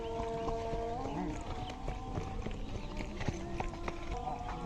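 A desi mare being ridden in jumping training clip-clops along, her hoof beats thudding at a steady gait while voices and other sounds carry on over them at moderate volume.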